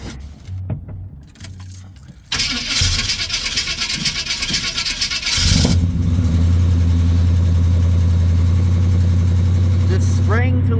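Keys jingle before a Chevy squarebody truck cranks for a few seconds and then catches, settling into a loud, steady idle close by. A faulty neutral safety switch has been bypassed so the engine can start.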